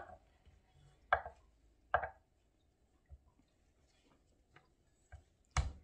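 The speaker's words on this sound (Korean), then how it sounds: "이제 우리 고기를 썰면 되죠" A knife slices meat thinly on a cutting board for chiljeolpan, Korean nine-section platter, giving sparse sharp taps against the board at irregular intervals in a quiet room.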